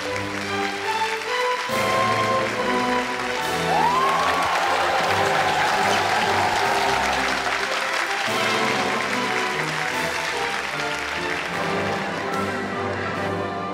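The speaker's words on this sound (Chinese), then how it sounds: "掌声请出这一队，掌声有请。" A television dating show's studio audience applauds loudly and continuously as a couple is welcomed onstage, steady dense clapping layered over background music, swelling slightly before easing near the end.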